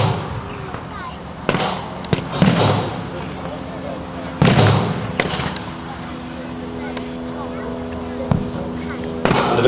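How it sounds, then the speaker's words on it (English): Artillery blasts from a WW2 reenactment at a tank show boom out at a distance in several separate bursts, with crackling rumble between them, while a commentator talks over the scene. "This is the Germans going to call in artillery."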